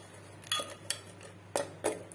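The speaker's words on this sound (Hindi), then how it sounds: "इनको थोड़ा सा ऐसे मिक्स कर लेंगे चम्मच की मदद से" A metal spoon stirs a rice mixture into milk in a cooking pot, making four distinct close clinks against the pot's side at an uneven pace, with a low hum beneath.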